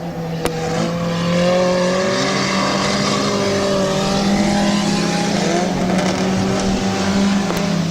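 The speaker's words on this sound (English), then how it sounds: "Tammy Rufner is on the track right now" Number 7 compact race car circling Midvale Speedway, its engine droning steadily and loudly with a slight rise and fall as it laps the track.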